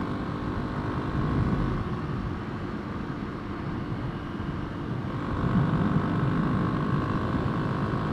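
A Kawasaki KLX300 or Honda CRF300L single-cylinder dual sport motorcycle accelerates up to highway speed, giving a steady, moderately loud engine drone with wind roar and a slight rise in pitch and volume partway through.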